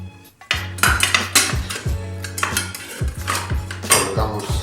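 Metal parts clinking and clanking as a blade is fitted onto a Stanley SC16 circular saw, a series of close, sharp rattling knocks in an uneven rhythm, with no talk.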